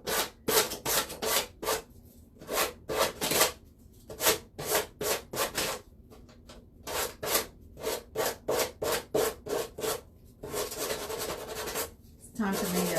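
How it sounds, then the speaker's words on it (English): An emery board wrapped in coarse sandpaper is rubbed in quick, rhythmic back-and-forth strokes, a dry rasping scrape repeated steadily with brief pauses and some faint talk in between. "I take my emery boards and I cover them with my own sandpaper."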